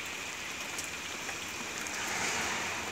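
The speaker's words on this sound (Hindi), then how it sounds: "क्या मौसम हो गया, बारिश ही बारिश" Steady heavy rain falling outside near a construction area, a thick constant wash of drops that swells slightly toward the end, close and unbroken by talk.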